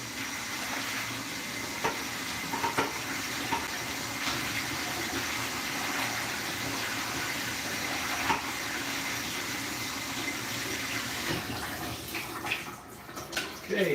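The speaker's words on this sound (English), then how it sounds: "green beans rinsed and ready" Tap water runs steadily into a bowl while green beans are rinsed, a continuous splashing gush at close range with faint clinks near the end.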